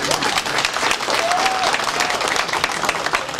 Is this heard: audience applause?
yes